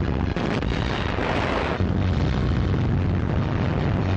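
Artillery barrage during the August 1944 Provence landing, heard as a loud, continuous rumbling roar of distant blasts merging into a dense wall of noise, with no voices.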